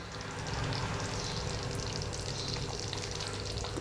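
Vegetable gravy sizzles steadily in a pan as it is stirred, a continuous close frying hiss with no talking.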